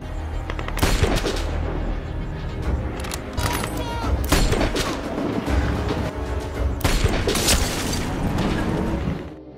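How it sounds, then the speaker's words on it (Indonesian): Rapid gunfire from an action-film shootout with terrorists: dense, loud bursts of shots and booming impacts crackle almost continuously, with sharp volleys standing out above a thick battle din. "Dalam insiden ini, rekan Rhys harus tertembak sementara Brandon terus menghabisi satu persatu dari para teroris tersebut"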